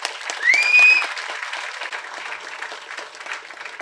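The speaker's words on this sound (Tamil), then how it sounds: "கைத்தட்டு பத்தாது." A crowd at a ceremony honouring social-service workers with actor Karthi applauds loudly and continuously. A brief whistle rises over the clapping near the start, then the applause carries on evenly.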